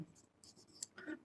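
Pen or marker scratching across paper while a matrix problem is worked out, a few short quiet strokes in an otherwise hushed room.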